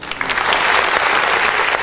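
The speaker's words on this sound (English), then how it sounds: "So I got to give Vic a little applause here." Audience applause for a guest on a live podcast-style show, steady dense clapping that fills the moment at close range, with no speech over it.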